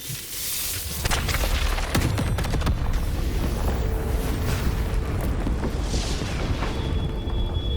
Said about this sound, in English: What caused the explosion?